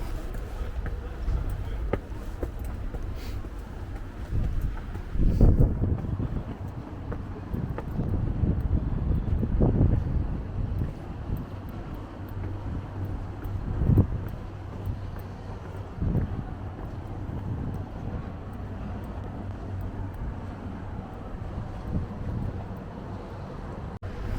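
Steady wind buffets the microphone outdoors on the Sumida River terrace in Tokyo, with a low rumbling drone of a passing boat engine on open water, a few gusty thumps along the way.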